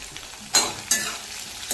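Ginger, garlic and green chili hit hot oil already crackling with cumin, mustard seeds, dried red chilies and curry leaves for a spring onion kulambu. Two sharp sizzling bursts are followed by a steady low frying hiss.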